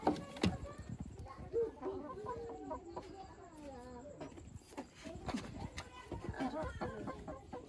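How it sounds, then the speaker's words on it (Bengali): Three chickens cluck and murmur close by in short, irregular bursts, with a few sharp knocks and rustles around them. "এই দেখেন তিনটে মুরগি মোট একটা ঘরে ধরেছি"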